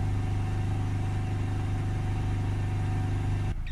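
A Ford Transit Custom 2.2 diesel van idling with a fault on its oil level temperature sensor, a steady loud low drone with an even rhythmic knock, cut off or muffled just before the end.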